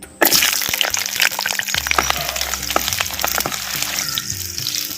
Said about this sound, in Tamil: இப்போ உரிச்ச சின்ன வெங்காயம் பத்து சேர்த்துக்கிறேன்